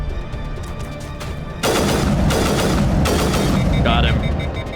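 A sniper rifle in the video game Mass Effect fires in loud, sustained bursts, two long volleys of crackling gunfire over a constant rumbling game background, with a brief high electronic tone near the end.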